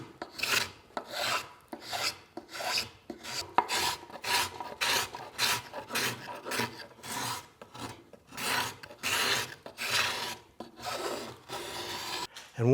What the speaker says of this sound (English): if used properly, a spokeshave will make shavings on end grain